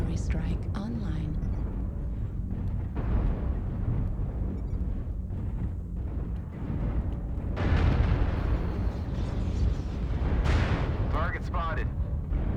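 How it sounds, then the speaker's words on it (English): Artillery strike explosions in a mech video game rumble as deep, heavy booms, layered with continuous battle noise and game voice lines. "Artillery strike online."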